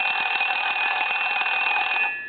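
Bells of a foreign desk-style telephone ring continuously with a bright, steady electric trill, close by, then trail off at the end.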